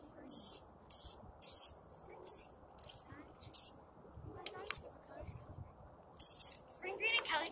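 Spray paint can spraying in short hissing bursts, about eight quick sprays at close range separated by pauses, with some rattling and a voice speaking in between.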